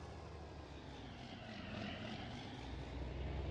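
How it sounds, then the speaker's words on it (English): Tractor engine in the Farming Simulator video game, a steady loud droning roar that builds slightly as the machine speeds along, with no talking. "The speed on this tractor. Look at it go."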